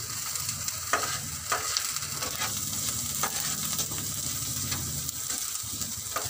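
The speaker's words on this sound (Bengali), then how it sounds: "কাঁচা লঙ্কা কুচি দিয়ে দিলাম। এটা ভালো করে আমি একটু ভেজে নেব" Chopped green chilies frying in sunflower oil, a continuous crackling sizzle with occasional stirring scrapes in a light irregular rhythm, close and moderately loud with no voices.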